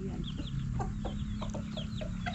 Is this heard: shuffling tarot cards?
no